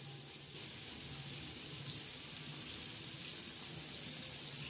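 Bangda mackerel fish, coated with rava, red chilli powder and besan, frying in a pan, giving a steady, even hiss and crackle of hot oil that holds at a constant level throughout with no voices.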